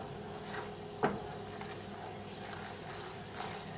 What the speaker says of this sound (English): we're just going to continue to stir it until it reduces and gets nice and thick to a coating consistency